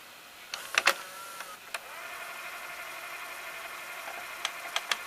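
Toshiba M659C VCR tape mechanism whirring steadily with a motor hum, preceded by a few sharp mechanical clicks and clunks, with more faint ticks near the end, close and fairly quiet.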